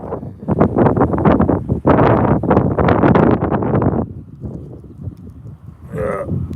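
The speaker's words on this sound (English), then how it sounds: "I'm starting to get wind again." Wind buffets a microphone outdoors on a southern Florida rockhounding outing, a loud, steady rumbling gust that surges and dips throughout before easing to a lighter blustery roar near the end.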